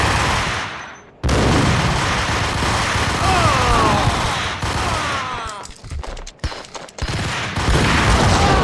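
Dense, loud gunfire fills the scene in the 2001 video game Max Payne, rapid bursts and sustained volleys broken by a short pause near the start, with brief gaps and renewed shooting toward the end.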